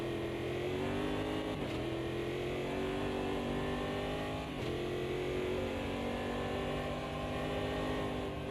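An Aston Martin Valkyrie race car engine in the Automobilista 2 racing game drones at high revs, loud and steady throughout, with two brief dips where gears shift before the pitch climbs again.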